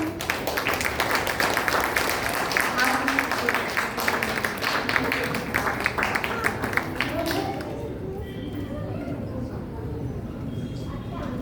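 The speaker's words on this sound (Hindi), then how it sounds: "तालियां बजती रहे।" An audience claps for a children's performance at a Junior Arya Samaj kids' programme in Bangalore, brisk rhythmic applause that fades out after about eight seconds into quieter room sound with voices.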